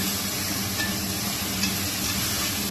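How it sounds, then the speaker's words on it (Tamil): Tomato and yogurt sauté together in a pan as a base for biryani, giving a steady, close, broadband sizzle with a faint scrape of stirring throughout and no talk. "தயிரோட சேர்த்து நல்லா வதக்கிக்கலாம்."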